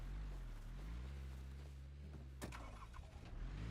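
A car engine starting up in Rust: a steady low rumble, then a sudden sharp ignition burst and rougher revving as it catches, fairly quiet and alone without speech.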